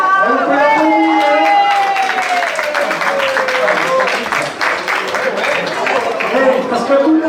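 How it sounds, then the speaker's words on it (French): An audience applauds steadily for a prize winner at an outdoor club event, with dense clapping and crowd noise that hold loud the whole way through, and a voice speaks over it. "On peut l'applaudir."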